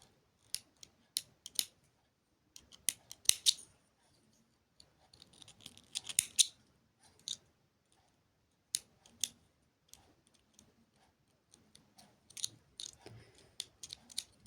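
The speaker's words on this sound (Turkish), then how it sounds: "makasım biraz körelmiş hemen bunları da kopartıp geliyorum" Scissors snip through cream-coloured thread during needle lace (iğne oyası) work, with sharp, separate clicks and crunchy cuts coming in quick bursts, close and moderately loud with no talking.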